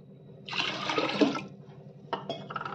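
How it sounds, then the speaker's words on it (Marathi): Water pours briefly into a pot for cooking dal in a splashing gush, then a few short splashes follow, close and fairly quiet. "बघा, याच्या दुप्पट पाणी टाकलं की एकदम ते बरोबर होतं"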